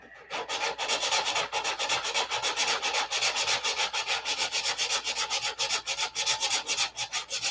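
Steady rhythmic sanding, a coarse rasping scrub repeated in quick even strokes, close and loud with no talking.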